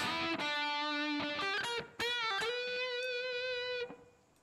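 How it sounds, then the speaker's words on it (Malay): A sustained, distorted electric guitar-like instrument plays a few held notes with a short reverb tail, loud and alone, ending in a quick decay. "selalunya reverb saya tu pendek je."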